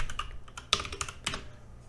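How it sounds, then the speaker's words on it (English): Rapid clicking keystrokes on a computer keyboard as a web search is typed, a close, steady patter of keys lasting about two seconds with no talking. "We're going to type in NOAA Weather Radio."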